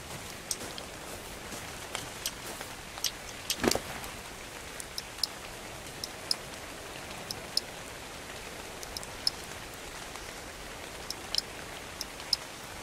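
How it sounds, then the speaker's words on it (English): Steady rain falls in the survival game Ark Survival Evolved, a soft continuous hiss with scattered light droplet ticks and one brief louder patter, no talking. "Little rain, some free water."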